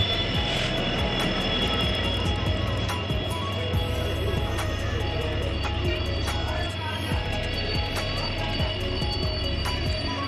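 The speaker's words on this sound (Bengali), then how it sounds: "শেষমেশ ট্রেন আসছে" A train pulls into a station with a sustained heavy rumble and faint metallic wheel squeal. It stays loud and continuous throughout the approach.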